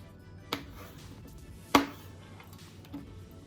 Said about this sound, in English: So for the corn, I'm just gonna show you guys how I cut it